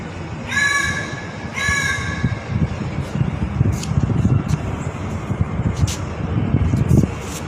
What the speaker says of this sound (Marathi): इथं एक कावळा सुद्धा राम राम असं म्हणू लागलाय